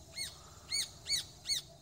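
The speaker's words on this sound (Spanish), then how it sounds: "escuche esos pajaritos" Small birds singing outdoors: four bright, arching chirps spaced at an even rhythm, clear and moderately near over a quiet low background rumble.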